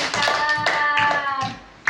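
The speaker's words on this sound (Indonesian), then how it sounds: "tepuk tangan buat Email" An Indonesian classroom gives a round of rhythmic hand clapping as applause for a student, a run of evenly spaced claps with voices chanting along in Indonesian, close and lively.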